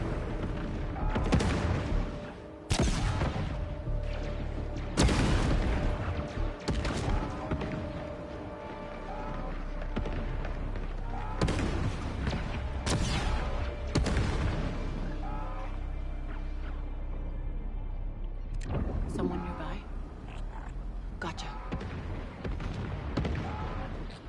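A string of explosions set off as a distraction in Star Wars Outlaws, with several loud, sharp booms spread across the stretch, each followed by rumbling debris and a lingering low background between blasts.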